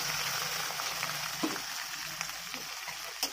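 Masala spices sizzle and fry in hot oil for an Odia-style chicken kasa curry, a steady close crackle with a few soft stirring knocks, no voices.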